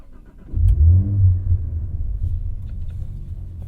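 A Cadillac CT4-V Blackwing engine cranks and catches with a brief rev, then settles into a low, steady idle rumble close by.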